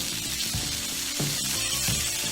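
Bacon sizzling on a Blackstone 22 inch griddle, a steady bright hiss of frying fat with a few soft low knocks, close and constant with no talk.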